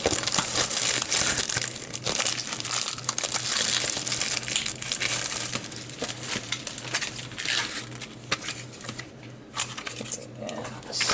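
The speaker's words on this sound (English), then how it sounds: "let me take some of the Dollar Tree bling out of the package" Stiff plastic packaging crinkles and crunches continuously as Dollar Tree bling is pulled out of it, close and loud, with small clicks and rustles throughout.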